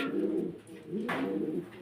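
Pigeons on a farm give two soft, close, throaty coos back to back, with no other sound over them.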